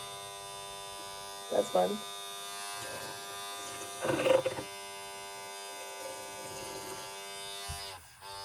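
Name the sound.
Styl Pro makeup brush cleaner spinning a brush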